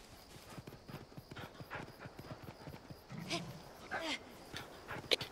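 Hoof-like clip-clop footsteps of a riding mount in the Monster Hunter Rise demo, a steady trotting rhythm with game effects and a brief bright chime near the end.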